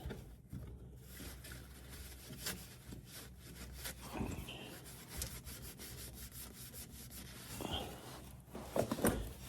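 Cloth wiping grease off the sway bar of an Audi RS5 B9.5, a steady close rubbing and scrubbing with repeated strokes and a few sharper scuffs, no talking.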